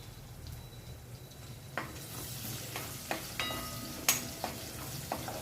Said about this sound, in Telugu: ఇప్పుడు ఒక పది గల వెల్లుల్లి ముక్కలు చేసుకున్న వెల్లుల్లి అయితే వేసుకోవాలి దీంట్లో